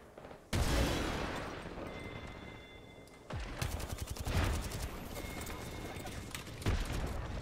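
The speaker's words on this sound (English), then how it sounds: "Opening fire." Rapid gunfire in the shooter game Apex Legends comes in loud, dense bursts of rattling shots, with a sharp burst near the start and more volleys later.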